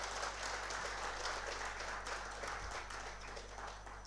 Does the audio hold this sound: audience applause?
yes